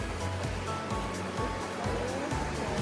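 River water rushes steadily around a raft on the calm Kinugawa river in Japan, a close, continuous broadband wash with soft splashes and no distinct voices.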